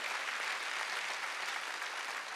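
A church congregation at a Sunday worship service applauds with a dense, even wash of clapping that is fairly soft and sustained for the whole moment, with no talk over it.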